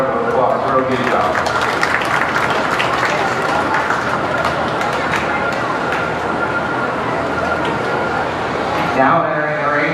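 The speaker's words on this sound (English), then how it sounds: "Let's just give these kids a round of applause." A crowd at a county fair beef show applauds young cattle exhibitors, a dense sustained clapping that carries for several seconds and then tapers off, with a voice talking over it.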